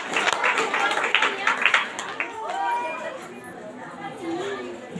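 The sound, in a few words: church congregation applause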